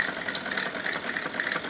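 A sewing machine stitching fabric while a salwar is sewn, a steady fast mechanical whirr running without pause at close range, no talk.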